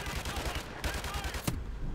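Rapid bursts of gunfire from a Call of Duty 4: Modern Warfare campaign firefight crackle continuously, with sharp louder shots standing out over a dense layer of battle noise.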